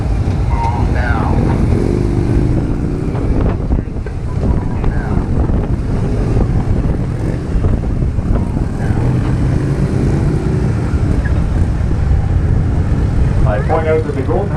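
Several Ontario Provincial Police motorcycles in a precision formation ride rumble together at steady speed, with heavy wind buffeting the microphone and a voice briefly calling out over the noise.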